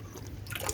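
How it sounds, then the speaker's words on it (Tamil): Water runs steadily from a tap, a soft continuous trickling pour at close range with low background hum. "பார்த்தீங்களா ஊற்றுதா தண்ணி"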